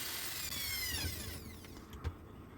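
A power drill bores holes into a wooden 8-inch two-way speaker box. A high whine winds down as the bit slows, a couple of soft knocks follow, and the sound stays fairly close and faint with no voices.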